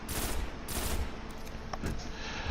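A sniper rifle in Destiny fires rapidly in a steady run of loud, close, evenly spaced shots with no talking.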